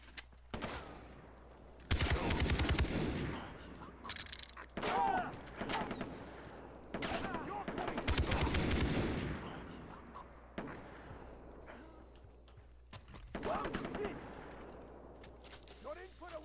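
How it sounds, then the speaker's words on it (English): Bursts of Kalashnikov assault rifle fire in the shooter game Far Cry 3, several loud rapid volleys separated by short pauses, with voices talking in between. "Good old dependable Kalashnikov."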